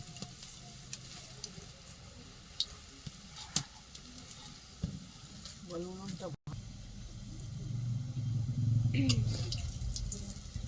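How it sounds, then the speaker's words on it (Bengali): Oil sizzles and crackles steadily as vegetable pakoras deep-fry over a village earthen stove, with occasional utensil clinks and stirring, and a muffled voice in the background. "এখানে পকোড়া ভাজা চলছে"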